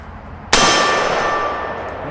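A 5.56 rifle round strikes a steel gong target on a shooting range, one sharp metallic clang that rings on loudly and slowly fades over a couple of seconds.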